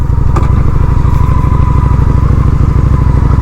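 A Honda Shadow 750 motorcycle engine idles loudly and close by, with a steady, throbbing low rumble and a faint mechanical clatter, with no one talking.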